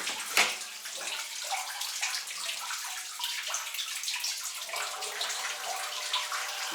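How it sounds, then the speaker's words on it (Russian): A household water pump on its first start after replacement pushes water through the plumbing, giving a steady rushing, splashing flow with small gurgles, moderately close and without talk. "Теперь вместе с вами предлагаю произвести первый пуск насоса."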